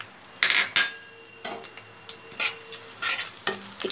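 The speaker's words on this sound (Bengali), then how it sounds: "একটুখানি ফোড়নটাকে ফ্রাই করে নেব" Panch phoron with bay leaf and dried chillies frying in hot mustard oil in a wok, a loud burst of sizzling and crackling spices with sharp metal spatula clinks and stirring scrapes in short bursts.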